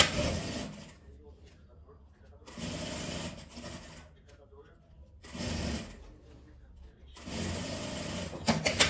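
A sewing machine runs in two long stitching bursts, sewing the strap of a fabric slipper holder, its steady motor whir close and clear with quiet gaps between runs; someone speaks briefly during the pauses.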